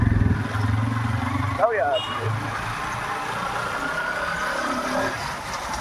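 A group of motorcycles rides along, engine rumble loud at first and then fading, with people talking over it.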